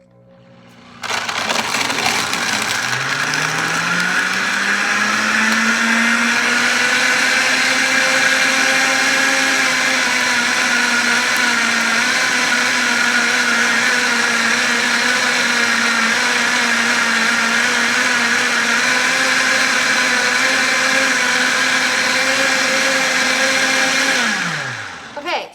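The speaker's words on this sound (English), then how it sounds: "I'm going to add it to the smoothie setting. Then I'm gonna hit this button here and it's going to mix everything in all by itself." A blender on its smoothie setting mixing keto coffee, a loud motor spinning up and holding a steady high whirring drone for over twenty seconds before winding down.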